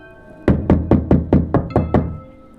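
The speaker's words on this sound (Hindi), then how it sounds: "अचानक बाहर से खटखट की आवाज़ आती है।" Seven loud, evenly spaced knocks on a door from outside at night, crisp and close, each with a short resonant thud, with no voices.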